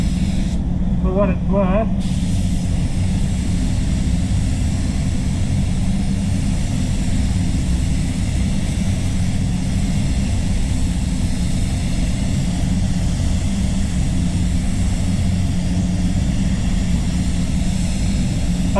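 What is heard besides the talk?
spray gun applying basecoat paint to a Mercedes C200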